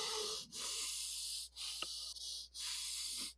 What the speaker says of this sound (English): 10 breaths in and out of your nose, and it'll sound like this.